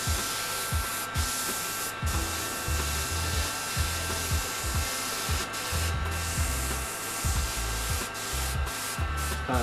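An airbrush sprays paint with a steady, close hiss, while a rhythmic low thumping pulses beneath it at a regular beat.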